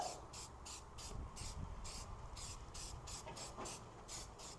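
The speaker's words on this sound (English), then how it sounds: "putting on some spray paint coats on that, so that way we will stop some future rust from happening" Spray paint can applied in short repeated bursts over a rusted floor pan of a K5 Jimmy truck: a close, steady hiss pulsing on and off in quick rhythmic strokes, with no talking.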